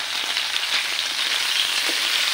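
Boiled chicken liver and gizzard frying in a pan for adobo, giving a steady, close hiss and crackle of sizzling oil throughout.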